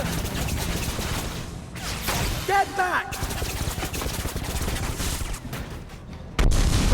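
Confringo blasting spell cast in a Harry Potter and the Deathly Hallows Part 2 video game, loud booming blasts and crackling gunfire-like bursts amid a chaotic battle, with a voice shouting over the noise.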